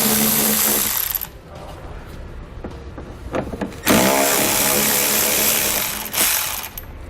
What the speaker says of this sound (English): So I'll take a 10mm socket and we'll pull those screws out.